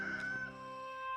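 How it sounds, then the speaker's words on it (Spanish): A rooster crows once, a clear, close, drawn-out call lasting about a second with no other sound around it. "Y Pedro lo negó otra vez, y al instante cantó un gallo."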